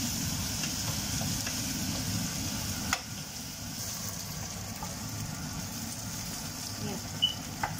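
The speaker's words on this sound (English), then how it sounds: "So I need to braise them all until they are golden brown." Three large onions, about 800 grams, braising in a pan until golden brown for lamb chatni gosht, with a steady low frying hiss and a couple of faint utensil knocks.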